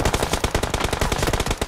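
Video game gunfire from an online shooter, a loud continuous burst of rapid automatic shots rattling in even rhythm for under two seconds, close and dominant with no talk.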